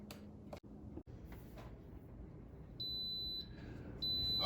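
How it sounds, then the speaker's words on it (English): An Instant Pot electric pressure cooker cooking black-eyed peas sounds a timer alert. Two sustained high-pitched electronic beeps ring out clearly over a quiet kitchen background, the second starting after a short gap and continuing to the end. "the timer has gone off"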